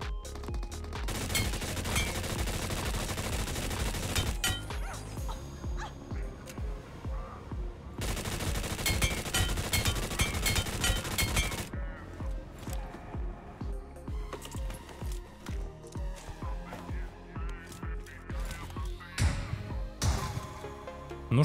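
Rapid pistol gunfire in PUBG Mobile's Metro Royale mode, loud bursts of repeated shots with brief pauses between volleys, layered over game ambience, with talk running underneath.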